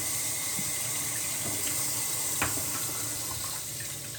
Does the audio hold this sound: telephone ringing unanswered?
no